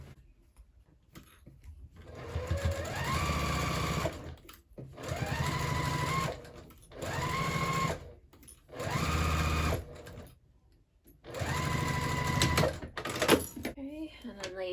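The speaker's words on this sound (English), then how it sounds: "Sew that one on again." A sewing machine stitches a handbag panel in five bursts of steady whirring, each ramping up then stopping abruptly, close and loud, with brief pauses and handling noises between.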